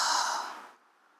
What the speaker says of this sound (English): Take a yawn.